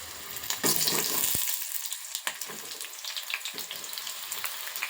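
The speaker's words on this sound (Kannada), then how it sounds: "ಎಣ್ಣೆಗೆ ಈಗ ಕಟ್ ಮಾಡಿರುವಂತಹ ಈರುಳ್ಳಿ ಹಾಕೋತೀನಿ" Chopped onion hits hot cooking oil in a pan, giving a loud, steady sizzle and crackle with occasional stirring scrapes, close up and without talk.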